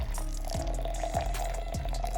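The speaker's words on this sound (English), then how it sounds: "pour 50 ml of water into the coffee" Water poured from a kettle onto coffee grounds in a French press, a steady close trickle with a soft recurring low thump, heard alone.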